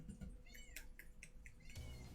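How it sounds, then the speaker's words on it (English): A house cat meows indoors in a few short, rising calls, close and fairly clear, with some low room rumble and shuffling around them. "Don't meow me."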